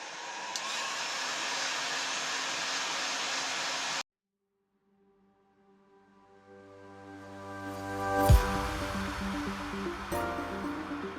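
A heat gun or hot air blower warms the crankshaft bearings of a Motobecane motorcycle engine, a steady close whooshing blast for about four seconds that cuts off abruptly, followed by a rising mechanical hum and a sharp knock.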